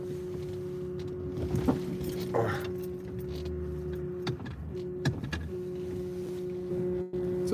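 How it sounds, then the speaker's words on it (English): Steady electrical hum inside a car parked in Las Vegas, a constant low drone with faint higher whine, close and continuous, with scattered small clicks and rustles and no talking over it. "That humming sound will go away."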